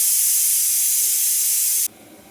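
Pressure cooker on the stove cooking dal with onion, chilli, tomato and sambar powder, a loud continuous steam hiss close by that cuts off abruptly near the end, leaving quiet room noise.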